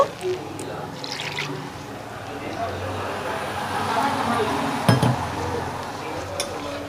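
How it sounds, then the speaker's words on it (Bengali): Leftover spice-grinding water and more plain water are poured into a cooking pot for a jackfruit kofta curry, with a liquid splash and light clinks of the pot under a speaking voice. "এখানে আমি মশলা বেটেছিলাম যে তার জলটা আমি ফেলিনি তার জলটা দিয়ে দিচ্ছি আর একটু আমি জল দেব"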